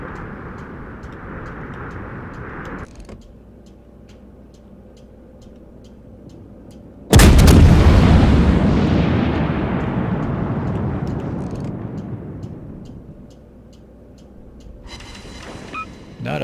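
A single loud naval gun blast in the World of Warships game during a long-range shot, erupting suddenly and rumbling into a long, slowly fading roar over lighter ambient noise.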